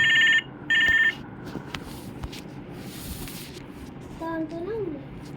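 A phone rings twice in short, loud electronic bursts, followed by quiet shuffling and then a voice.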